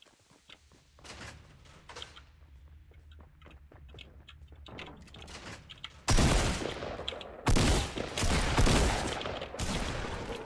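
SMG fire in Fortnite, quiet scattered clicks and footsteps first, then loud, dense automatic bursts breaking out in several rapid volleys toward the end.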